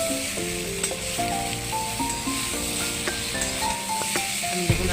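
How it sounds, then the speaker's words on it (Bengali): Papaya and potato pieces fry in a pan of oil seasoned with chilli, giving a steady, close sizzle with occasional clinks of a utensil, no voices. "পেঁপে আলু একটু ভাজা ভাজা হয়ে গেল"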